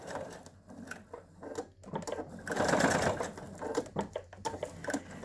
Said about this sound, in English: And I'm going to backstitch. You want to backstitch at both ends.